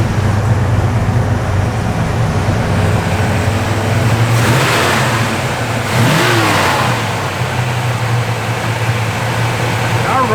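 A 1964 Chevrolet Malibu convertible engine idles loud and close, then revs up twice in swelling bursts before settling back to a steady rumble, with a voice talking over it.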